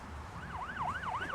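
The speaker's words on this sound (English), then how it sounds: "We got a police escort into the town here. In front of us, we got the fire engine, and we have the local police car as well." Wailing siren from a police car and fire engine escort into an Irish town, rising and falling in steady repeated sweeps over low road rumble, fairly close and growing louder.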